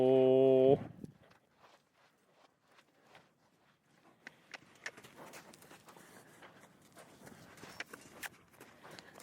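A horse runs loose around a round pen near a trailer, its hoofbeats coming as soft, irregular thuds on dirt that grow busier toward the end, after a brief loud noise at the start.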